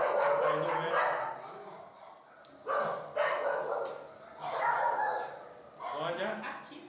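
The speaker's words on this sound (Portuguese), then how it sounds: "eles soltam os cachorros sempre na hora do culto" Several dogs bark in bursts of yips and woofs, some whimpering, mixed with someone talking over them, fairly close and recurring throughout.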